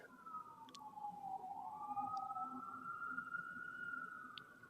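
A wailing emergency siren rises and falls steadily in the distance, continuous over a low background rumble.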